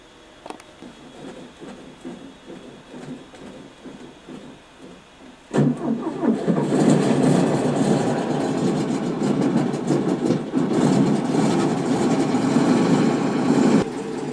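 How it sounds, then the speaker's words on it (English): A vehicle engine cranks with rhythmic sputtering, then catches with a sudden roar and settles into a loud, steady running drone. "And with a roar, his engine was purring."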